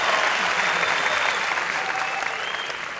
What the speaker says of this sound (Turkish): Mert'e kuvvetli bir alkış lütfen.